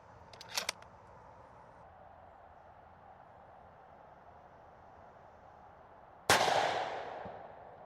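Two sharp rifle shots from a Tikka T3x Lite in .308 loaded with copper ammunition: a brief crack early on, then a much louder, close report several seconds later whose echo rolls off slowly, with a quiet outdoor hush between.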